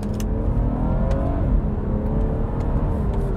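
From inside the cabin, a BMW 440i Gran Coupe accelerates hard, its engine note a steady, rising drone with the whir of gears under sustained throttle and no talk over it.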